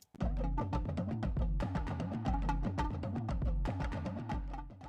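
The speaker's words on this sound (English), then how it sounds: "So just the 808 and the talking drums sounds like this." A punchy electronic beat with deep booming 808 bass hits and pitched, bending talking drum strikes in a steady repeating rhythm, loud and upfront.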